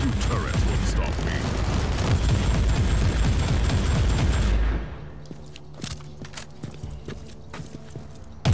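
Gun turrets in Warhammer 40,000: Inquisitor - Martyr fire in a dense, loud rattling barrage with heavy booms, then cut off, leaving sparse scattered shots and clanks at lower volume.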